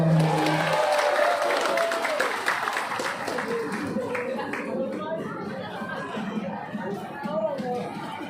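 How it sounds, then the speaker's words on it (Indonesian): Kindergarten children clap their hands together in a steady patter at a school event, mixed with lively chatter, laughter and adult voices throughout. "tepuk tangan."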